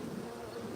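A close, unbroken hum of honey bees around their hive, the swarm's buzz holding level with slight swells.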